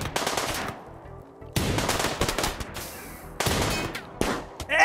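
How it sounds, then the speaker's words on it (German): Automatic gunfire from the colony-simulation video game RimWorld, rattling out in dense, loud bursts separated by short pauses, with no speech over it. "wir schießen ihn jetzt zu Klump."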